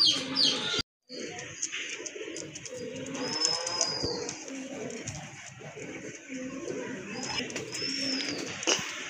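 Large pigeons kept in a breeder's collection coo softly at close range in a quiet room, with scattered chirps and rustling and a brief gap of silence early on.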